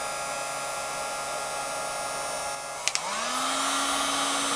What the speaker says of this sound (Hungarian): Na, tehát hőlégfúvó 1-es fokozat